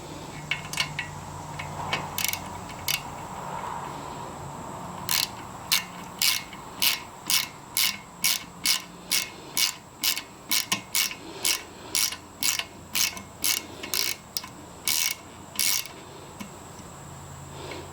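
A hand ratchet with a 3/8 inch deep-well socket tightening a Russell Speedbleeder, a long run of evenly spaced close clicks in quick strokes with short pauses, loud against a quiet background.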